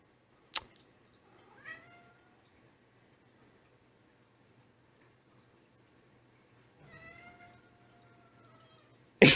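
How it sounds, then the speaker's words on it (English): A cat gives a short meow, then a longer drawn-out meow that stretches into a yawn, both fairly close in a quiet room, with a sharp knock at the start and another at the end. "He yawned while he was meowing."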